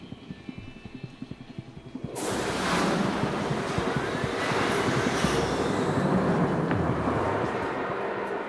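Ride on a theme-park train in the video game Alpine Wonder Park: a quiet clicking rumble gives way after two seconds to a loud, steady roar of rolling wheels that continues to the end.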